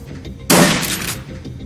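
A single shotgun blast in Shadowrun: Dragonfall, a loud, sharp, broadband crack that decays over about half a second against a quiet background.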